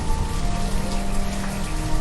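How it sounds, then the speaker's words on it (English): Steady rain pattering in the village-building game Banished, a dense continuous hiss of falling drops on surfaces that fills the whole moment at an even level with no voices. "It's raining again."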